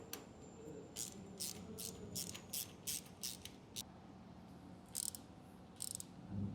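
Allen bolts being tightened on a stainless steel aftermarket exhaust for a Royal Enfield Himalayan 450, heard as a series of short ratcheting clicks and metallic creaks in bursts against quiet background hiss.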